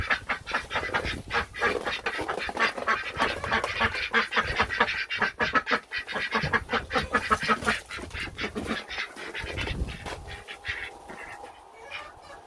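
A group of ducks quack steadily and busily at close range while eating table scraps, with overlapping calls and occasional honks.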